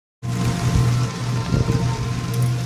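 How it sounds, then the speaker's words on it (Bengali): Rain begins falling during a road trip toward Siliguri, a sudden onset of steady, fairly loud patter and hiss that continues for a few seconds without any voices. "বৃষ্টি শুরু হয়ে গেছে।"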